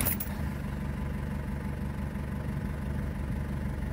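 Isuzu 4JX1 diesel engine after EGR valve and throttle plate delete catches and settles into a steady, rumbling idle, close and constant throughout.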